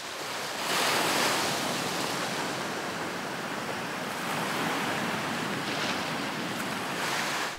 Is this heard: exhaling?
no